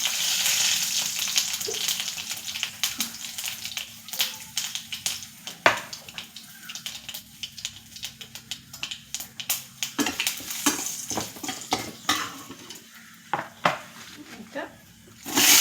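Chillies, mustard seeds, fenugreek and curry leaves sizzle and crackle in hot oil, a close, steady fry broken by frequent sharp pops and spatters that grow louder and more scattered toward the end.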